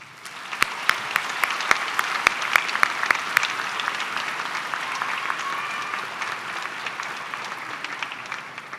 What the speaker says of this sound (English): And I would like the graduates of 2026 to say thank you and applaud